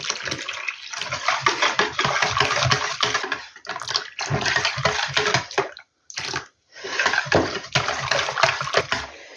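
Hot water, about 200 ml, is poured into pancake batter made with milk and flour, a close, loud splashing stream with stirring-like pulses that briefly stops and resumes.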